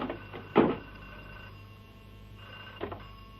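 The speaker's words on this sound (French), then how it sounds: "Téléphone. Téléphone." A telephone rings as a sound effect in a French comedy radio serial, with steady electric ringing tones broken by a couple of short knocks, fairly close and without speech.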